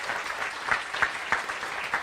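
Applause from a congress audience, a short stretch of crowd clapping with a few sharper individual claps standing out rhythmically over the general patter, moderately loud and without talk.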